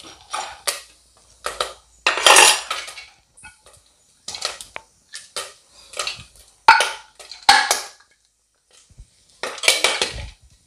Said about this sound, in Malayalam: ചോളം ഇതാ ഇവിടെ പൊട്ടാൻ തുടങ്ങിയിട്ടുണ്ട്